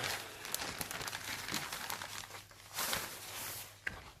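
Thin plastic masking sheet for windows crinkles and rustles as it is handled, in soft, irregular bursts of crackling close to the microphone.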